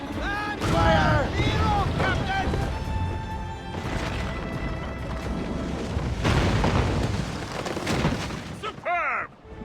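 Ship cannons fire a volley during a naval battle in Assassin's Creed Rogue, heavy booms and crashes rolling one after another over a dense mix of shouted voices and battle noise.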